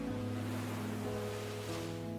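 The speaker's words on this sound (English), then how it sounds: "You just sit and listen to the steady sound of the rhythmic ocean waves." Steady, rhythmic ocean waves washing in as a continuous soft surf wash under a sustained musical drone, fairly quiet and unbroken throughout.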